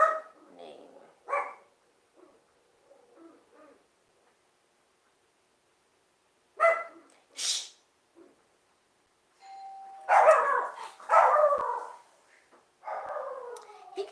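A dog barks in a few short bursts indoors, alternating with quiet gaps, while a woman hushes it and people talk nearby.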